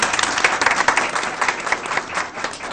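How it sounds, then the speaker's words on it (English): Audience applause at a school board meeting honoring two elementary students, a close, lively burst of many hands clapping with distinct individual claps throughout. "Let's give them another round of applause."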